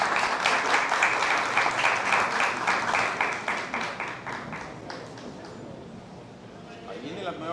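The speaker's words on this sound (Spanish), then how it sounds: "Vamos a darle un fuerte aplauso a nuestros niños de la Escuela de Gaitas" An audience at the poster launch for the 32nd National Autochthonous Gaita Festival of San Jacinto applauds children from the Herederos Ancestrales gaita school, with brisk clapping that thins out and fades while a voice carries on.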